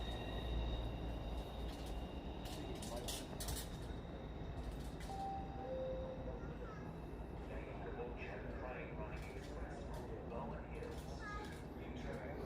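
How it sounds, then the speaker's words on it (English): A train rumbles steadily into a station, with occasional high wheel squeals and clanks over a constant low roar, and a voice faintly in the background. "Please wait behind the yellow safety line until the train has stopped."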